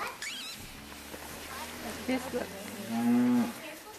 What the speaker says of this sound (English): I heard the cow again.